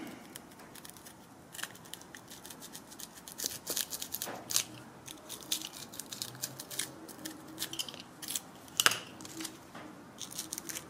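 A blade cuts a slot into balsa wood with a run of small, close, crisp snipping and crunching ticks that come in uneven bursts against a quiet background.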